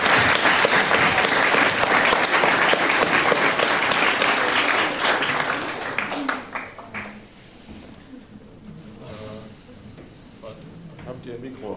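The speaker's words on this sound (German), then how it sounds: "großen Applaus für Minerooms" An audience at a youth hackathon's closing presentations claps loudly and steadily for about six seconds before the applause fades, after which people talk quietly.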